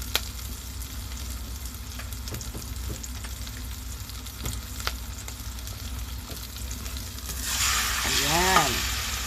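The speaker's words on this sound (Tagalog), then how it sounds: "Ilagay na natin si chicken." Chicken frying in a pan with garlic and onion gives a continuous close sizzle with occasional stirring clicks, swelling louder near the end as the pieces hit the oil, with a brief vocal sound over it.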